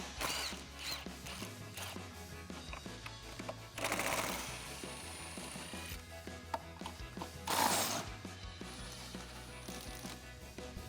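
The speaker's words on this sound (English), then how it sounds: "I'm using our lug nut key as well as a 7/8 inch socket, and I'm going to remove our lug nuts on our JL." A lug nut key and 7/8 inch socket loosen the spare tire lug nuts on a Jeep Wrangler JL, giving close ratcheting clicks and metallic turning, with a few louder scraping bursts.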